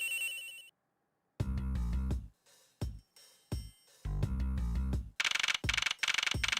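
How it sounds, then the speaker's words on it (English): A cell phone rings in a locker in the Ace Attorney Investigations video game. The ringtone plays as loud bursts of a repeating electronic melody, with short gaps between phrases. "This has got to be the victim's cell phone."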